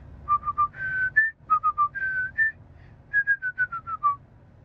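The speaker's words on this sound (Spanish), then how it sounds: "Yo voy a silbar una canción y tú me dices si la adivinas" A person whistles a song melody in short phrases of clear, separate notes. The whistling is close and alone, with no talk over it.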